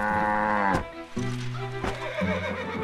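Cows in a farm setting from the game Wonderbook: Book of Spells give loud, drawn-out moos, two or three calls in a row close by, with a short gap between them.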